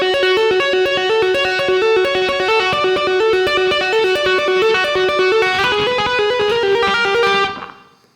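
An electric Les Paul guitar plays a tapping solo, a fast, steady run of distorted tapped notes that is loud and close, then fades out over the last second.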